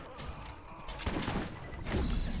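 Bursts of Borderlands gunfire crackle over a busy, noisy background, with a sharp volley around the middle and heavier shots near the end.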